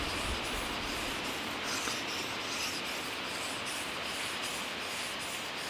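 A knife blade rubs back and forth across a sharpening stone in a steady, continuous gritty scrape, close and even in level.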